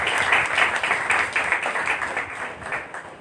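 Loud applause from an audience at a Sunday prayer meeting, dense clapping that swells and then slowly thins toward the end.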